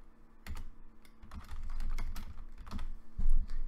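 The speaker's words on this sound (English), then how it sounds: "So I'm going to type in a name and give it an address." Someone types a name and address on a computer keyboard, producing irregular clusters of close, crisp key clicks with brief pauses between them.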